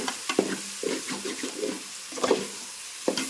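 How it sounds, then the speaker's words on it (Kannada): Potatoes fry in a pan with salt and masala, stirred with a spatula. Uneven scraping strokes and bursts of sizzle come close, with louder scrapes near the middle and end. "ಈಗ ಚಂದ ಫ್ರೈ ನೋಡ್ರಿ"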